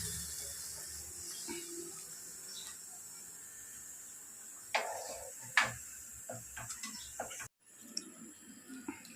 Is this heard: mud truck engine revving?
no